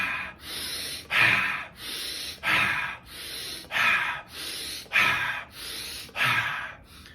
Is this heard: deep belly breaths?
yes